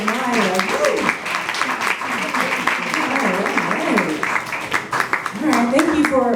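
An audience at a spoken word showcase claps steadily, with the sound filling the space, while a voice talks over the applause.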